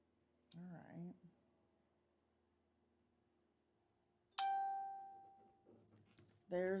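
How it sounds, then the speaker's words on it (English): A phone notification plays a ding-dong chime, two bright ringing tones that decay slowly, with a person talking before and after it in a quiet room. "There's a ding dong on the phone now."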